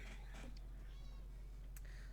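A cat meows once, soft and fairly faint, over a steady low background hum, with no voices.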